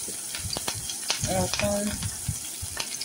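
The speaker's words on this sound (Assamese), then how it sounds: "আকৌ কেৰাহীত অকণমান তেল দি তাতে পিঁয়াজ" Oil sizzles and crackles softly as onions fry in a wok, with scraping stirs and brief clattering, fairly quiet and close.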